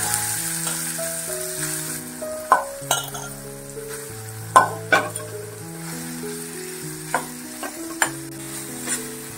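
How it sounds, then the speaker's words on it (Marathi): Soybeans toasting in hot oil in a pan, with a steady soft sizzle and occasional sharp clinks and scrapes from stirring, while a melodic instrumental tune plays throughout. "चांगले फ्राय करून सोयाबीन घ्यायचे"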